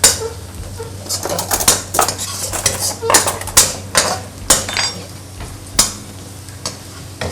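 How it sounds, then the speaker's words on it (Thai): Garlic tossed into hot oil in a pan while cooking a stir-fry of Colubrina asiatica with shrimp and egg, with steady sizzling under repeated clanks and scrapes of a utensil against the pan. "กระเทียมน้ำมันร้อนนะครับ ใส่ลงไป เอากระเทียมให้เขาเหลืองหน่อยนะครับ"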